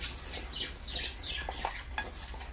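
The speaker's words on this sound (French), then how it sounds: "Alors, voilà. On mélange." Spoon stirring a sugary maple apple crisp mixture in a bowl, a run of soft scraping, sticky strokes close by with no talking.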